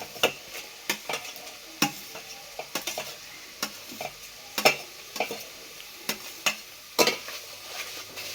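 Whole spices and onion sautéing for chicken biryani cooked over a wood-fired chulha, with a soft steady sizzle broken by repeated sharp stirring scrapes of a spoon against the pan, close and without talk.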